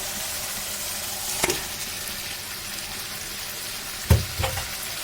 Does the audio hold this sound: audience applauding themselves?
no